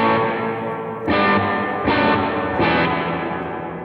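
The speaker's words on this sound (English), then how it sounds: "Here I'm adding a hall reverb." An electric guitar rings through a hall reverb, with three distorted strummed chords struck about a second apart, each leaving a long, washing tail that lingers between hits.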